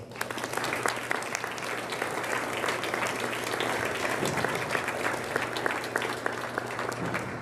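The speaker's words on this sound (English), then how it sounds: "Can I get another big round of applause?" Sustained applause from an audience at a 2024 Grade 12 high school graduation celebration, a steady dense clapping wash that holds for the whole stretch under a constant low hum, with no talk over it.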